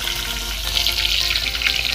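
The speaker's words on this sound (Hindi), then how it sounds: "तो इसमें तेल में जा चुके हमारे कंट्रोले" Spiny gourd (kantola) pieces fry in hot oil, giving a dense, continuous crackling sizzle that stays loud and even throughout, with no voices.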